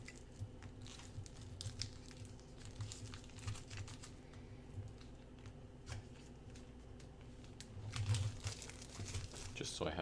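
A knife cuts away the plastic packaging on a Betrayal at House on the Hill board game, making soft, faint crinkling and scratching sounds close by.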